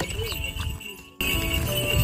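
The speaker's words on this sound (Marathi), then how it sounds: "घोडासुद्धा हळूहळू चालत आहे बघा." A horse plods slowly along a mountain trek, with soft hoof steps and faint movement sounds heard alongside a person talking nearby.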